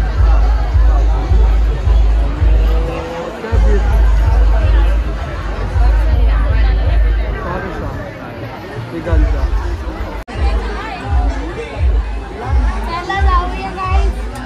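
A large crowd of devotees at the Kelamba Devi temple during Navratri, a dense, loud, steady babble of many voices close by with a low rumble throughout.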